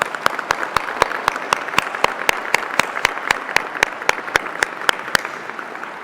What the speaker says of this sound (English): Would you please join me in a round of applause for Michael?